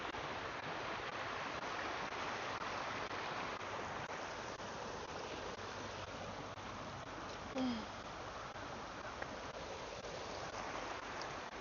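Creek water flowing steadily outdoors, a continuous broad rushing wash at moderate level with no speech, holding constant for the whole stretch.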